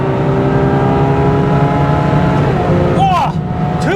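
Ferrari 812 Superfast driving fast on the Autobahn, a loud sustained engine roar with layered climbing tones and road noise, then a quick rising sweep of a gear change.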